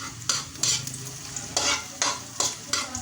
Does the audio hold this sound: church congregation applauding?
no